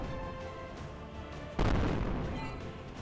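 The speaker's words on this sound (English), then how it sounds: "fire the cannons" Cannons fire in the game Architects Exodus: a single heavy boom breaks out abruptly midway and then rolls on as a rumble, following quieter background game sound.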